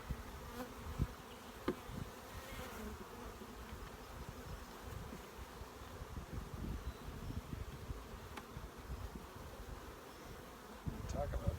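Honey bees buzz around an open hive being worked frame by frame, a soft continuous drone with individual bees passing close by in brief louder swells.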